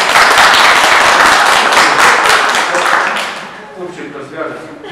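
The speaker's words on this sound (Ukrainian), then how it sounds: "Аплодує, боже." An audience bursts into dense, loud applause that then fades out over a few seconds, with a voice speaking through it.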